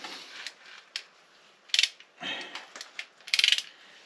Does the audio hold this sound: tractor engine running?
no